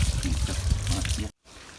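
Cold water splashes and runs over a dog during a bath outdoors on a hot summer day. It is a close, continuous wet gush under a talking voice, then cuts off abruptly near the end.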